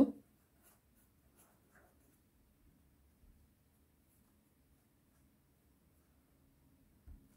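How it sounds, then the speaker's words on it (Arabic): Faint, steady scratching of handwriting during a first-grade primary science lesson, quiet and close with a few slightly louder strokes near the start and end. "نكتب الفرضية"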